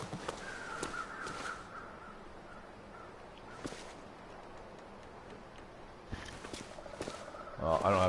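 Crows cawing in the snowy survival game The Long Dark, with harsh calls scattered across several seconds over a steady wind-like background, some footstep crunches, and louder noise near the end.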